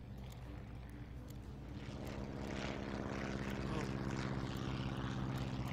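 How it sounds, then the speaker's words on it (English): A propeller airplane passes overhead in SimCity with a steady droning engine that swells louder over several seconds, under clicking game sounds and a brief spoken exclamation. "I guess it's an airplane, not a helicopter."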